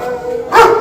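A dog barks once at a shelter for stray dogs, a short, close, loud yelp rising out of a steady background hum.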